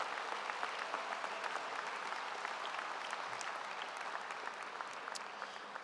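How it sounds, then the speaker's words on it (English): Applause from a crowd at a high school graduation ceremony, a soft, distant, continuous patter of many hands with a few sharper claps standing out. "Let's give a nice round of applause for this high school."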